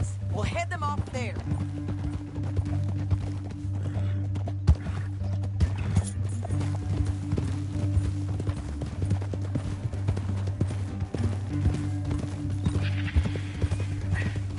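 Horse hooves clip-clop in a steady trotting rhythm over a low droning background in Red Dead Redemption 2 on PS4, with a whinny near the start and voices talking.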